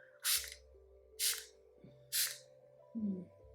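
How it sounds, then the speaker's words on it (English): Three short bursts of a Youthforia Pregame setting spray pump, each a quick airy hiss, spaced roughly a second apart, close to the microphone. "I'm using the Youthforia Pregame Skin Moisturizing Setting Spray"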